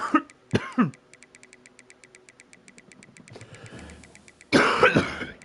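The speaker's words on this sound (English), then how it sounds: "If I just knock this fucking cough," A person coughs harshly close up, one fit at the start and another heavy burst at the end, with a steady ticking in between.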